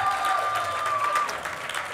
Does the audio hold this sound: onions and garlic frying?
no